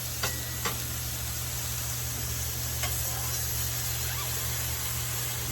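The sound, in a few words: mushrooms cooking on a griddle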